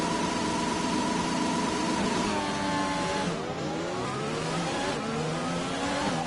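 Formula 1 car from the F1 2020 video game doing a practice start in Mexico, engine revving loudly with rising and falling pitch sweeps, a continuous close high-revving roar with no talk.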